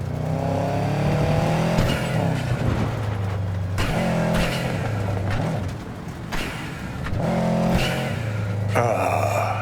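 An engine hums and revs continuously as a car drives in Cyberpunk 2077, the pitch rising with each acceleration and dropping at gear shifts, loud and close.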